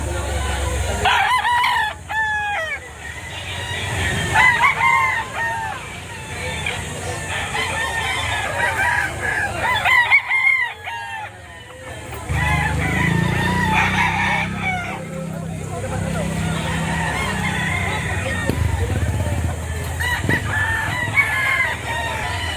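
Several roosters crow one after another at a gamefowl market in Padre Garcia, Batangas, loud and nearby over background clucking and murmured talk.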